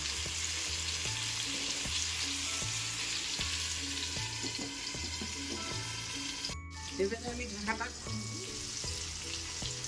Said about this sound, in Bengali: কাঁকরোলটা ভাজা ভাজা হয়ে গেছে।